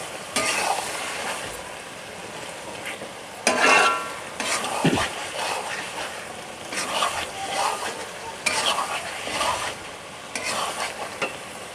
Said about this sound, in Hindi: ये डाल के जस्ट आपने मिक्स करना है।